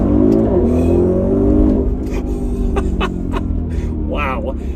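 A 2020 Audi RS Q8 engine pulls hard under acceleration, its loud, steady drone rising in pitch with a sustained climb, heard from inside the cabin beneath a voice.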